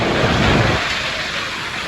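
Heavy rain pours down at the Mallam junction in Jaffna, a dense, loud, continuous roar with a deep rumble in the first second that eases into a steady hiss.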